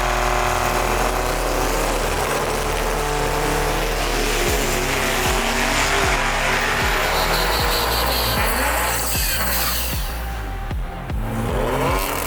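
A drag race car makes a pass, its loud engine roaring steadily throughout with rapid sharp gear-change pops and crackles in the middle, on a car with a leaking axle seal and extra weight added on the leaf springs.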